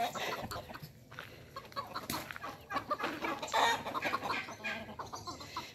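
A rooster and hens in a backyard coop cluck busily, with repeated near calls and sharper squawks over a constant background, the rooster bristling at a new small bird.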